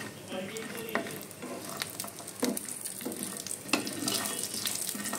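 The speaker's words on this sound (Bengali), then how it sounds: "বড়ি একদম লাল করে ভাজার দরকার নেই" Lentil dumplings (bori) frying with green chilies in a pan, steady crackling sizzle broken by repeated spatula scrapes and stirring knocks, close and moderately loud.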